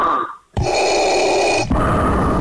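A person imitates Darth Vader's mechanical breathing with the mouth on a radio show: a loud, close hissing inhale, a short pause, then a long rasping exhale, with no speech over it.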